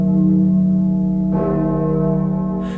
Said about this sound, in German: Ich höre schon die zynischen Dings und Dongs der Glocken in der Friedhofskapelle